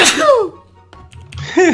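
A man gives two quick sneezes in a row, close and loud, each a sharp burst sliding downward in pitch with a brief pause between them.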